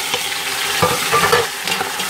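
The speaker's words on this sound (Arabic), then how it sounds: "فهو الزيت تقلى ليا شويه بدا كياخد ليا اللون، ف غادي ننزل كاع بالبصل والطماطم والثوم والكزبر والمعدنوس" Onions, tomatoes, garlic, coriander and parsley are dropped into hot oil and fry with a loud, crackling sizzle, with brief stirring scrapes heard close by and no voices.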